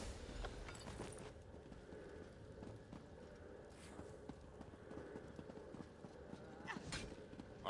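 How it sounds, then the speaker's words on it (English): Horse hooves clip-clopping in Elder Scrolls Online, a quiet, steady patter of hoofbeats under a faint ambient wash, with a few brighter clicks and no talk. "I'll secure the horses while you go on ahead."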